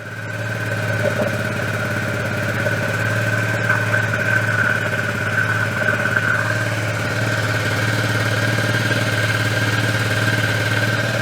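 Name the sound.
moped engine idling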